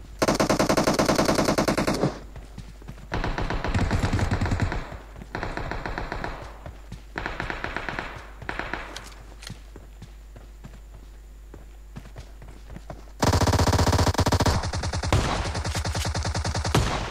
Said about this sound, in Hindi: अभी तक शॉटगन का आवाज़ आ रहा था यहाँ पे